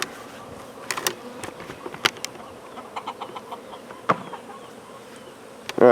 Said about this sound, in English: All right, you got these bees here, huh?